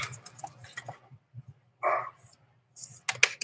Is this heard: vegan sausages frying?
no